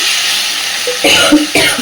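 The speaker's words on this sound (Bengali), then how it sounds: "মাঝে মধ্যেই আমার একটু কাশি হচ্ছে" A couple of short, sharp coughs break through the steady sizzle of spices frying in oil for an egg curry, the pan noise continuous underneath.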